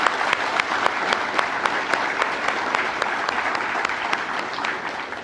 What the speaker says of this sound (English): let's give all these students another great round of applause